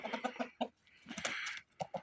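A rooster and chickens cluck softly at close range in a short burst of rhythmic clucks, with a brief pause and then a few more clucks.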